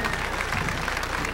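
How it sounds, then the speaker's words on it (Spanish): A crowd at a carnival performance in San Vicente de Tagua Tagua applauds a band, with brief, dense clapping that is steady throughout. "espero que sea, haya sido de su agrado con este aplauso para esta banda."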